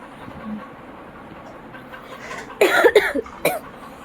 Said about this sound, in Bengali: তো কাশিটা এখনও আছে